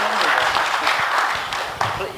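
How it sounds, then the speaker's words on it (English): An audience at the Africa Nuclear Business Platform 2024 applauds the panelists with steady, moderately loud clapping that fades slightly toward the end. Some speech mixes in with the clapping. "please give an applaud to our panelists"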